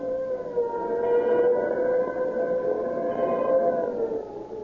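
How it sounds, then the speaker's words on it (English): A police siren from an old-time radio broadcast wails in long, sustained rising and falling tones, loud and steady, with no talking. "When you hear the scream of the siren and police cars go tearing past"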